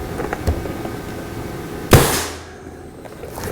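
A single sharp, loud rifle shot from a Skout Epoch cracks close by, followed by a short fading echo against a quiet outdoor background.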